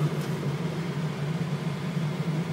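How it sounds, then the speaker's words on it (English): Steady broadband rushing of air blowing from the air conditioning vents of a 2006 Ford F350 diesel truck, constant and even, with a low hum underneath and no voices. "That would be air conditioning, my friend."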